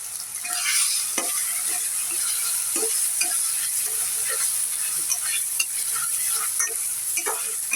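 Salted dried hilsa fries in spiced oil with a constant bright sizzle, broken by repeated scraping clicks of a spoon stirring the pan, close and fairly loud with no talk.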